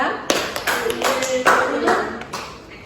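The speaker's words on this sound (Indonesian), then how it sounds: "beri tepuk tangan untuk kelompok 2" A small classroom group of schoolchildren claps for group 2, giving a few scattered, uneven claps with voices audible underneath.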